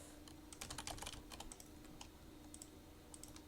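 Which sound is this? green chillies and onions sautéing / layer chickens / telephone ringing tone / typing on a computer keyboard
typing on a computer keyboard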